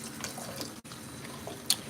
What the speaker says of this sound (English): Time to rinse her hair.